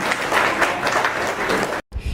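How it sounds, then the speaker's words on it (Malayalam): Audience applause fills the hall at an Ayurveda Day celebration in Idukki, a dense steady patter of many hands clapping close and loud for nearly two seconds before stopping abruptly, then a brief low thump. "കൈയടിച്ച എല്ലാവരും"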